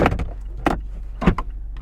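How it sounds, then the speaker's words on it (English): The power soft top of a 2023 Mazda MX-5 Miata Grand Touring closes in a few short mechanical whirring bursts with brief pauses between, close by and moderately loud. "Let's put the top back up."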